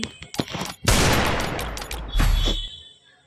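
Desert Eagle pistol fire in a video game, a quick burst of sharp shots followed by a loud, sustained blast and a second surge, near and loud, with faint talk in the background.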